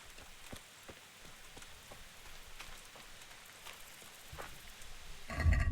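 Steady rainfall pattering on surfaces at night on a road in Kingdom Come: Deliverance, a soft continuous patter with scattered drop ticks, growing louder and more clattery in the final moment.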